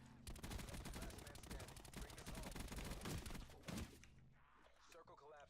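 Rapid, sustained automatic gunfire at zombies in the Black Ops 4 Blackout video game, dense bursts of shots that break off near the end, with players talking throughout.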